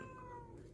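A cat meows once, a short drawn-out call heard faintly and alone, indoors during a small electronics assembly.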